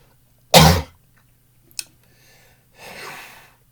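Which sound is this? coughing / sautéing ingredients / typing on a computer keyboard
coughing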